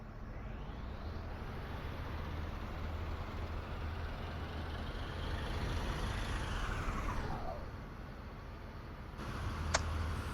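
A steady, loud bus engine drone in a driving simulator game runs throughout, rumbling and continuous, with a brief high whine near the end.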